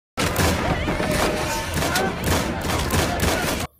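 Gunfire from a film scene in which infected attackers shoot people fills the clip with dense, loud bursts of rapid shots, booms and crashes that run almost without pause.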